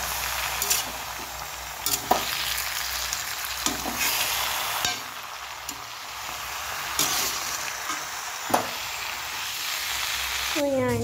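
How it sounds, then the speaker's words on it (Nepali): Saag greens sizzle and fry in a hot pan with the masala already in, a steady crackle under repeated scraping and stirring strokes of a spoon, close and moderately loud. "अब यहाँ साग हाल्ने बेला भयो है अनि म साग हाल्छु अब"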